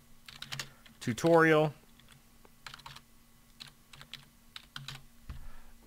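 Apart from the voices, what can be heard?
typing a file name on a computer keyboard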